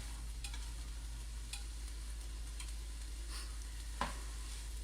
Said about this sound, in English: So those are going to saute for a couple minutes